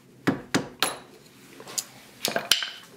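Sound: hammer and chisel knocking off covers

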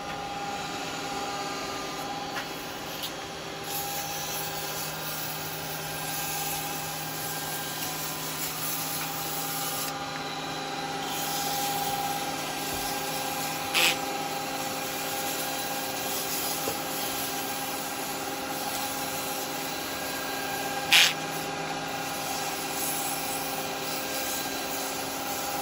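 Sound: sanding a wooden baby rattle on a lathe

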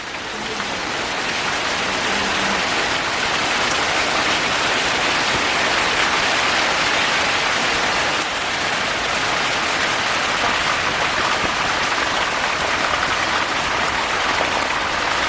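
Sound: heavy rain

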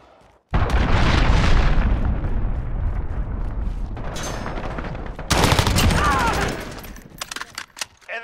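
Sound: cruise missile strike explosions in Call of Duty: Modern Warfare video game

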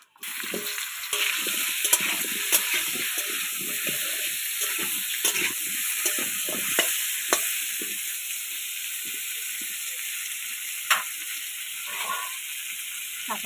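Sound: frying kohlrabi in hot oil

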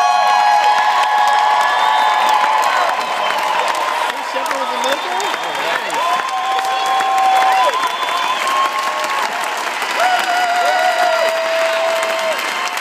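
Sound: applause and cheering for military veterans

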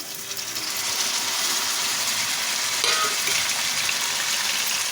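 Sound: chopped tomatoes added to frying ginger garlic paste

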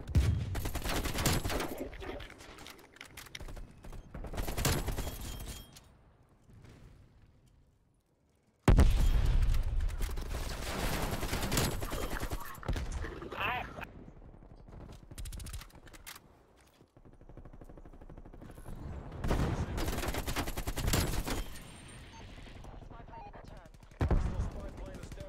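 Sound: gunfire in the video game Call of Duty Cold War

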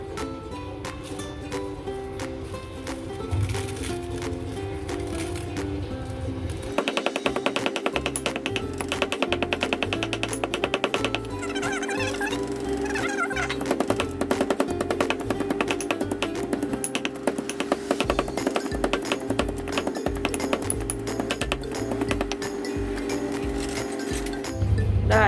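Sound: pounding chili and garlic in a mortar

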